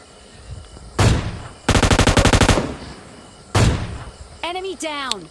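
Gunfire in the video game PUBG Lite: two single loud shots bracketing a rapid burst of about a dozen automatic rounds, close and sharp, followed by a brief synthetic game tone.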